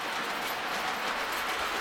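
A Lionel Milwaukee Road Pacific model train engine runs on a layout, giving a steady, close whirring rumble with faint rhythmic clatter that holds even throughout and has no voices over it.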